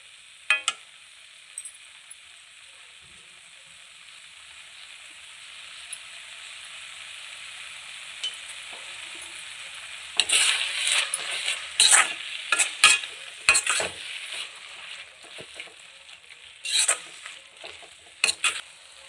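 Spinach greens cooking in a pan for a keerai kadaiyal, a soft steady sizzle at first, then a run of scraping stirring strokes and clatter in the second half, close and fairly loud.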